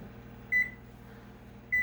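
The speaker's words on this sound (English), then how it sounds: "I'm going to set my timer" A kitchen timer being set for 40 minutes gives two short, clear electronic beeps about a second apart over a quiet background hum.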